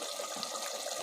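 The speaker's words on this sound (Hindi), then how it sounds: "अब मैं इसके अंदर डालने लगी हूँ आधा कप दूध" Half a cup of milk poured into a clay pot of roasted masala and yogurt for sarson ka saag, a soft, steady liquid hiss running evenly throughout with no talking.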